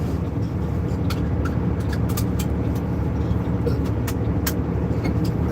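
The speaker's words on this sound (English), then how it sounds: "that is a big wave of traffic" Heavy road traffic streams past close by, a continuous loud rumble of cars and buses with sharp hissing bursts like air brakes scattered throughout.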